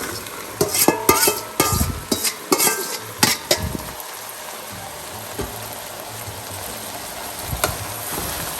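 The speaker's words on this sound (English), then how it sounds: "So these are all the peppers. I'm going to put those in now." Peppers tipped into a hot pan of pasta sauce with meat, followed by clattering spoon stirs and scrapes early on, then a steady sizzle that settles into a quieter simmer.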